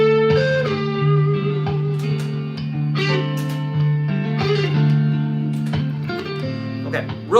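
Electric guitar picks out simple, clean phrases over a sustained low note, moderately loud with a few plucked accents near the end.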